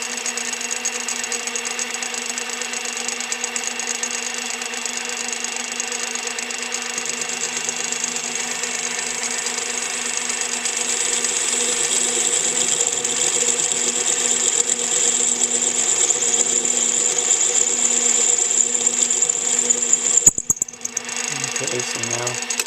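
A power tool cuts a metal part for model casters, giving a steady, continuous whine that holds at a constant pitch and grows slightly louder before cutting out near the end with a clatter.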